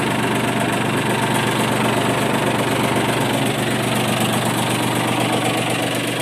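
A three-cylinder mini tractor engine runs at high revs, a loud, steady, vibrating drone with a rattling knock that holds constant throughout, up close with no pauses.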